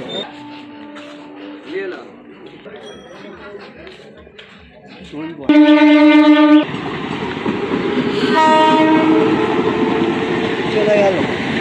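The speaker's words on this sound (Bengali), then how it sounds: "তো এটা আমাদের ট্রেন ছিল, মিস হয়ে গেল।" A train rumbles past at a station with a loud blast of its horn mid-clip, then steady rolling rail noise and a second horn, while people talk nearby throughout.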